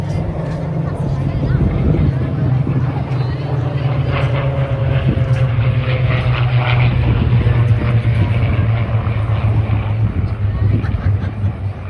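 Loud, sustained piston-engine drone of Spitfire and Mustang vintage aircraft passing overhead at the Blackpool air show 2024, a deep steady roar with shifting tones, continuous throughout.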